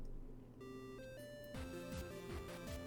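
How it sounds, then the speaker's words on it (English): Phone ringtone in the visual novel game Nekojishi, a bright rising electronic melody of tones over a soft looping backing tune, fairly quiet and alone. "The ringtone had cut through their standoff, both turning around to look at me"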